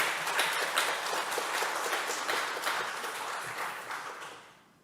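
A church congregation claps for its choir, dense steady applause filling the room and then slowly tapering off toward the end.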